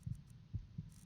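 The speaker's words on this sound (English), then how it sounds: "I'm hearing the blood. My heartbeat." A vampire character's heartbeat in Skyrim with the Requiem AE mod: a few deep, muffled thumps at an uneven pace, some doubled, over a low steady hum, quiet and close.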